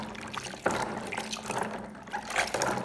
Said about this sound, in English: First, wash the peeled garlic.